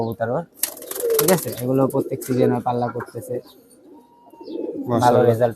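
Pigeons at a loft coo softly in the background while men converse loudly over them for most of the stretch.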